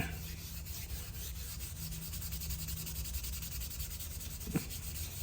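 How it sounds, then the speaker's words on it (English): Steady, rhythmic hand sanding rasps against a wooden Les Paul-style guitar body in quick repeated strokes, close and continuous, with a faint hum beneath. "I have a feeling that I'll be doing a lot of sanding to get this right."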